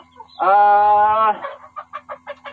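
Barred Plymouth Rock chickens, black hens, calling loudly up close: one long drawn-out squawk followed by a run of five or six short rhythmic clucks.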